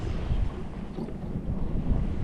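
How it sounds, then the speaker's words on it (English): Wind at sea buffeting a lone sailboat crossing the Pacific, a steady rushing roar with gusty microphone rumble and a wash of water, no voices. "the wind is still somewhat present, so hopefully this will last"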